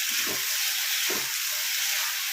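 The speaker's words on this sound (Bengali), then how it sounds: "এই এইভাবে আমি পুরো মশলাটাকে ভালো করে কষিয়ে নেব।" A spice masala sizzles steadily as it is sautéed in a pan for matar paneer, with a constant bright hiss and two brief low stirring bursts along the way.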